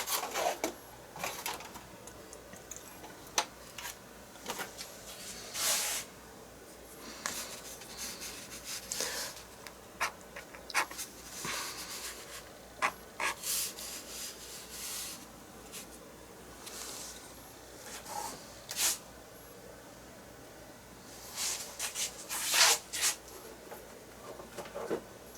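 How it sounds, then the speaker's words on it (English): Scraping tool dragged through wet paint to pull branch shapes into a mountain gorge landscape painting, producing scattered short faint scratches and scrapes, close up, with quiet pauses between strokes. "I'm going to try to scrape in a few little branches if I can."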